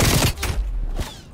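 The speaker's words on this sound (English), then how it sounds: "Suddenly there's four people shooting at me." Gunfire from LC-10 and M16 weapons in a video game comes in a loud, close burst of several shots followed by a couple more sharp reports over a little more than a second.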